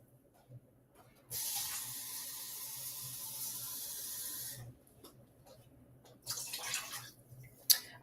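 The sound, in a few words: water running into a container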